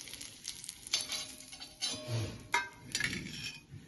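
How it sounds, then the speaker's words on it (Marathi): Vadas, savory fritters, sizzle and crackle as they are dropped into hot oil, with soft bursts of frying and occasional light clinks of a utensil against the pan, close and moderately quiet with no talk. "तर वडे असे हे तेलामध्ये सोडून फ्राय करून घ्यायचं"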